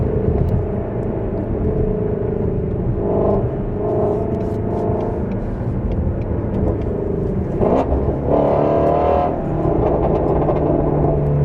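A Mustang GT350 with a Corsa double X-pipe resonator delete rumbles loudly and steadily in second gear, with a few brief bursts of exhaust pops toward the end.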